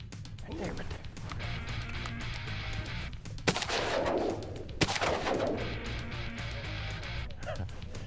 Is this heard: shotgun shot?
yes